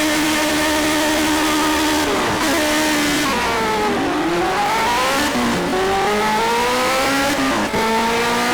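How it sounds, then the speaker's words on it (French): Racing car engine in the Project Cars video game, revving loud and steady with rising and falling pitch sweeps as it accelerates and shifts, alone without speech. "L'accélérateur il fait un bruit assez chelou, on dirait"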